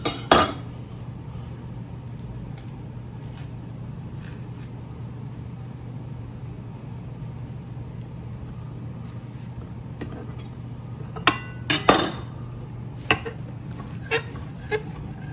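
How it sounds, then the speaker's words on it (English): A Shun Premier chef knife slices a banana on a board with a few soft cuts, followed by a cluster of sharp clicks and taps as the blade meets the board, all over a low steady background hum. "I guess cut up a banana real quick"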